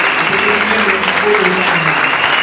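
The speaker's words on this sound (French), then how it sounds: "nous acclamons pour le frère Lévi Bilongo" A church congregation applauds a brother during a pastor's sermon: dense, sustained clapping from many hands fills the room at a steady, loud level throughout.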